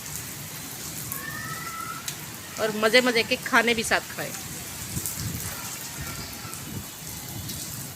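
Heavy rain pours down in Lahore, a continuous close hiss and patter of drops on surfaces, with someone speaking briefly partway through.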